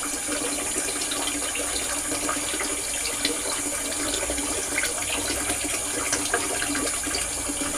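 Cold water runs steadily from a tap into a sink before a straight razor shave, a continuous close splashing gush with no talking.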